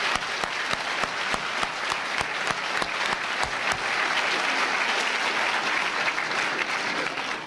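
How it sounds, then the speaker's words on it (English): An audience applauds at a live Ben Shapiro speech event, sustained loud clapping with a few sharper claps standing out early, no talking over it. "I'd like to give you a round of applause for coming"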